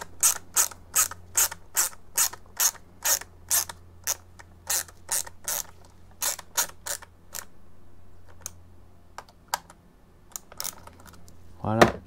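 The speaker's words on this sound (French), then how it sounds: "il suffit juste de venir bloquer la vis. Enfin, on met la vis en butée et c'est terminé" A screw is driven into the plastic chassis of an Arrma Gorgon 1/10 monster truck until it seats, giving a fast run of sharp ratcheting clicks that pause, resume and end with a short burst.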